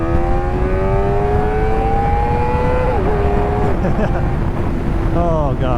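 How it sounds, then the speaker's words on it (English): A Honda motorcycle engine revved hard to its rev limiter: a loud, rising whine plateaus, stutters against the limiter, then rises again in quick bursts. "Oh God, I love hitting the rev limiter on this thing"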